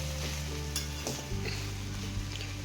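Potatoes and onion fried with chilli and turmeric sizzle steadily in a pan, with a few soft stirring scrapes and a low hum beneath, nearby and without talk.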